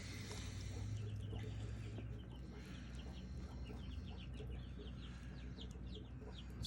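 A small chick cheeps in fast, high repeated peeps while being treated for pasty butt, heard close against a steady low hum of background noise.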